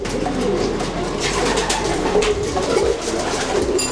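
Several racing pigeons coo steadily close by in a loft, their soft rolling calls overlapping in a continuous murmur with no talking.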